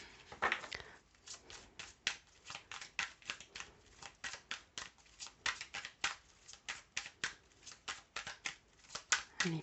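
Tarot cards are shuffled in a fast run of crisp riffles and flicks, a rapid irregular patter that is fairly quiet and close, with no one talking over it.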